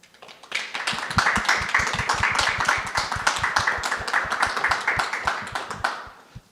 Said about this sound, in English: let's give one final round of applause to our speakers for tonight